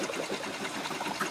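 A Ricoma EM1010 or Brother SE600 embroidery machine stitching patches makes a soft, quick, even rattle of needle strokes that carries on steadily through the short stretch.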